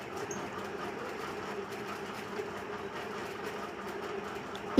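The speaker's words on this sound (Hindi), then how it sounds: "और फ्रंट पार्ट को भी हम इसी तरह से सिलाई लगा लेंगे।" Sewing machine running steadily while stitching the front panel of a double-cup 40-size blouse, a continuous even mechanical whir and rattle at moderate level with no talk and a small knock at the very end.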